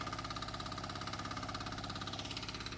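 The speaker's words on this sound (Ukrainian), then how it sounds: "Ну а це вже мій варіант. Саморобний мотоблок, саморобна картоплокопалка по типу" A homemade walk-behind tractor fitted with a homemade potato digger runs close by, its single engine chugging at a fast, even, pulsing idle throughout.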